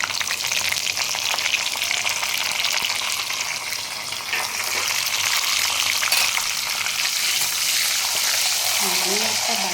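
Whole spices tempering in hot frying oil produce a loud, dense, continuous sizzle and crackle, with a brief voice-like sound surfacing near the end.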